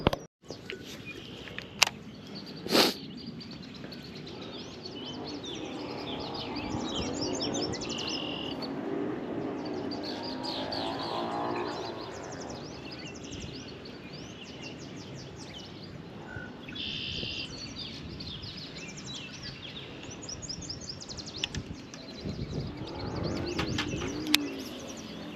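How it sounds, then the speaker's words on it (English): A large flock of red-winged blackbirds calling around a fishing spot, a steady chorus of chirps, trills and whistles at moderate distance, with a few sharp nearby clicks and no talking. "the 500 red-winged blackbirds around me are not assisting"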